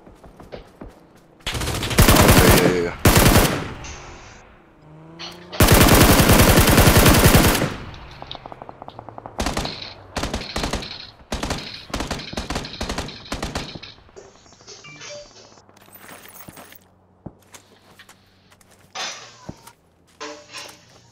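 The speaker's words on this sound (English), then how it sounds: "Shooting at the guy that was shooting at you." Gunfire in the video game PUBG: Battlegrounds: loud sustained automatic bursts alternate with sharp rapid single shots and short rattling volleys, separated by quieter gaps with mechanical clicks.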